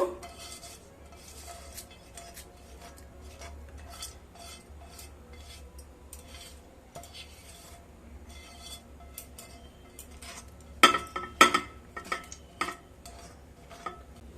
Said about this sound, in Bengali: তড়কাটাকে দিয়ে আবারও খুব ভালোভাবে মিশিয়ে নেব